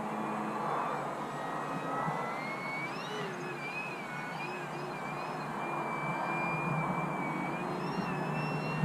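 A small RC Harrier model aircraft flies overhead, a thin, continuous electric whine that rises and falls in pitch as it maneuvers at moderate distance, over steady outdoor wind noise.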